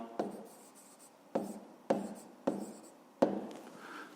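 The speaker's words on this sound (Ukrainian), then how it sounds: "зараз записуємо відповідь до другого завдання" A pen writes an answer into a notebook in five distinct scratching strokes, each starting sharply and trailing off, close up with no talk.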